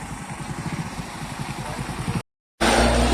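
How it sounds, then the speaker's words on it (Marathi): A car that had been stuck runs after being pushed free, its engine idling with a steady throbbing pulse, close and fairly loud, then cutting to a louder, rougher roar. "चला गाडी निघाली आता आपली. अडकली होती दे धक्क्यातून."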